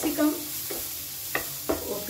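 Strips of onion and capsicum tossed in a hot pan: a continuous sizzle punctuated by several quick, close spatula scrapes and knocks.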